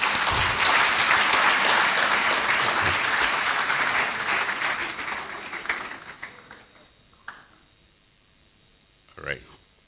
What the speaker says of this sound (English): let's kindly give the chair, my boss, a round of applause